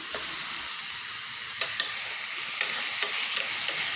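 Chopped tomato and turmeric frying in a pan for cucumber sambar, a bright steady sizzle with scattered light clicks of stirring, close and fairly loud, no speech.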